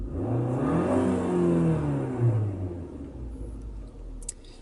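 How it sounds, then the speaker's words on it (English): A car with an automatic transmission idles in park as the gas pedal is pressed, the engine swelling into a steady rev and then easing back down to a low, smooth hum, with no talk over it. "So if I press down on the gas pedal, you might hear the engine rev up."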